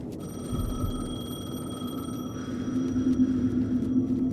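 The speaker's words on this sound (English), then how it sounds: "The payphone was ringing." A payphone rings in the video game Alan Wake 2, a steady electronic telephone ring with sustained tones over a low rumbling ambience, heard alone and at moderate distance.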